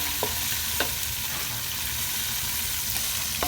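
Garlic and ginger fry in a pan for a simple vegetarian fish curry, a steady sizzle with a few stirring scrapes of the utensil, close and even throughout with no talking.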